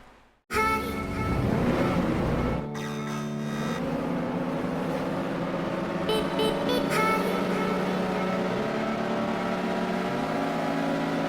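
Revox vehicle in Roblox Jailbreak on a speed test, its engine droning steadily and loudly with tonal whine that shifts pitch as it accelerates, alone without talk.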